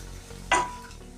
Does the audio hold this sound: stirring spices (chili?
yes